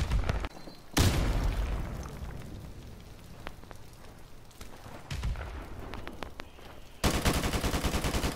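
Bursts of automatic gunfire in Call of Duty 4 Modern Warfare team deathmatch, a loud volley near the start, scattered sharp shots through the middle and a rapid sustained burst at the end, with no talking.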